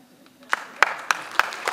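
A few scattered, uneven claps ring out from an audience at a celebrity guest session in an acting academy. The claps are brief and sparse rather than sustained applause.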